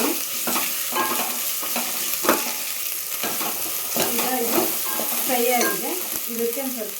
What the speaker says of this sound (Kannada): ಈರುಳ್ಳಿ ಒಂದು ಸ್ವಲ್ಪ ಫ್ರೈ ಆಗಲಿ